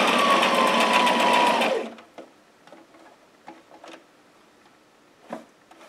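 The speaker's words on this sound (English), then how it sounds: "I just stitch down the whole center front" A home sewing machine runs in one fast continuous whirring burst while it stitches down the center front of a dress. It stops after about two seconds, followed by faint clicks and handling taps.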